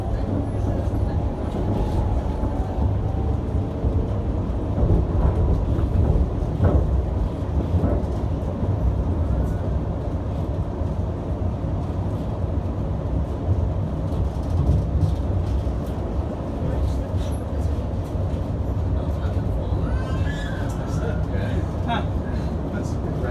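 Steady low rumble and rattle of a London train heading to Gospel Oak moving along the rails, with faint squeals and clatter.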